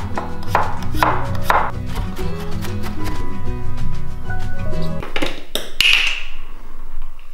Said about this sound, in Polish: I będziemy sobie go bardzo, bardzo drobno kroić